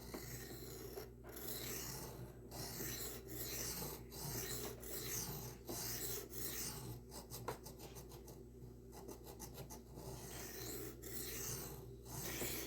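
Knife blade stroked back and forth on diamond sharpening plates, a close, rhythmic gritty rasping with regular strokes, then a run of quick short strokes, repeating steadily with no talk.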